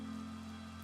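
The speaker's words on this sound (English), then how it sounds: "I know it's like crazy and raining and stuff." Steady rain falls in the video game Minecraft, a soft, even patter of drops heard alone with no talk.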